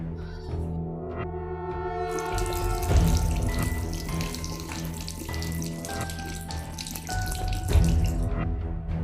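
A water tap runs steadily into a sink in a home, a continuous rushing splash with shifting gurgles and no voices.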